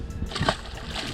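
A small striper is dropped back into Lake Norman with one short splash amid a soft slosh of water near a boat.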